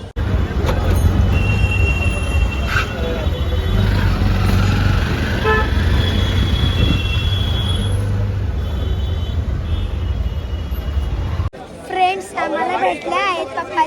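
A train at Kurla in Mumbai rumbles loudly and continuously with a high horn tone and squealing wheels for about eleven seconds, then cuts to a brief voice-filled stretch.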